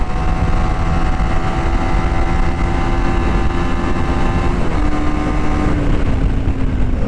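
A TVS Apache RTX 300 motorcycle engine drones loudly and steadily at speed on the highway, its pitch holding then stepping slightly partway through, with constant wind rush and no talking.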